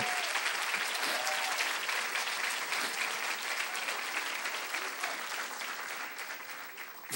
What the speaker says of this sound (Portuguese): pode aplaudir fortemente ao Senhor